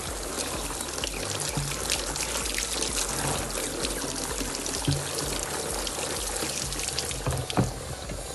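Water pours steadily into a 5-liter plastic tank being filled and rinsed, a continuous close splashing trickle with a faint gurgle, no talking.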